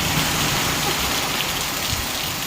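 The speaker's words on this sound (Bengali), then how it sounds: "এখন এত জোরে বৃষ্টি বৃষ্টির সাথে বাতাস দেখো" Heavy rain driven by wind pours down in a dense, loud, continuous roar of drops striking surfaces. The sound is steady throughout, with no voices.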